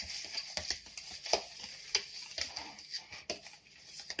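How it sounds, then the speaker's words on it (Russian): Butter, cottage cheese and sugar stirred together in a bowl for curd cupcakes, giving soft repeated scraping and tapping strokes at close range, with no talk. "Потом мы это сейчас все тщательно перемешаем."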